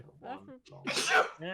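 A sneeze bursts out loud and close amid casual conversation at a tabletop Dungeons and Dragons session, one sharp broadband blast between stretches of talking voices.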